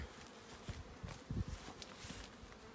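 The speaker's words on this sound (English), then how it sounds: "there's bees flying" Honeybees flying around a swarm trap outdoors, a faint low buzzing with brief louder passes as individual bees fly close, no talking.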